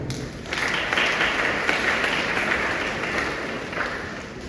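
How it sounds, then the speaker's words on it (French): An audience applauds at a school centenary ceremony, steady clapping that rises after a brief quieter start and holds at a moderate level for several seconds with no talking. "je demande que vous applaudissez à nous aussi"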